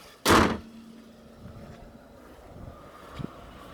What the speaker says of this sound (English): Go ahead and shut the hood here.